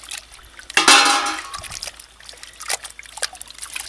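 Salt water trickling and splashing as cotton dyed with cotton is squeezed out by hand, a sudden close gush followed by scattered drips and dribbles that fade away.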